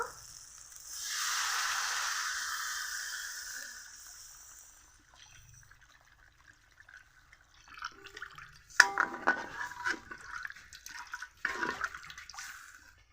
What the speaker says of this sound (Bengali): মশলা ভালো করে কষে নিয়েছি, এখন জল দিয়ে দিব